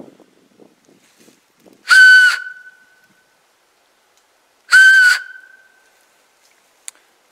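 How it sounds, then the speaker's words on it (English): Two loud, piercing whistle blasts made by blowing across a .22 Magnum shell casing, each lasting about half a second with a brief ringing tail, separated by a few seconds of near silence. "It's a very loud whistle, and different shells will make different tones"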